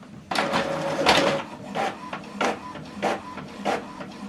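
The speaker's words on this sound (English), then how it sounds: "Now this document is printing." An Epson WF2910DWF inkjet printer prints a two-sided black document: a close, mechanical whir followed by evenly spaced sweeps as the print head and paper feed work in a regular rhythm.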